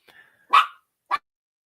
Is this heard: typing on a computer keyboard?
no